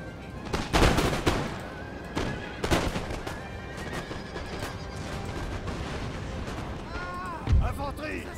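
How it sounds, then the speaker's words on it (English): Old Guard infantry in Napoleon Total War fire musket volleys, heard as a few sharp, booming bursts spread apart over steady battlefield noise with voices and a horse whinny. "Please open fire, old guard."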